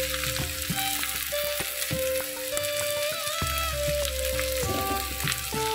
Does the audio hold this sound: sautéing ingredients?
yes